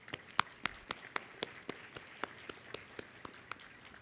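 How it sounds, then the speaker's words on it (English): Small conference audience at an opening ceremony giving a brief round of applause, sparse individual claps spaced irregularly with no speech over them. "I just wanted to give just a quick round of applause for Max in particular."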